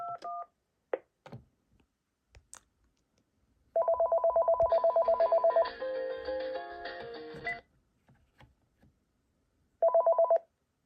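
Keypad tones from a Panasonic KX-TG5583 cordless phone: short beeps from single presses, then a rapid train of dialing tones followed by a longer layered tone burst, and a final brief tone burst after a pause, close and clear.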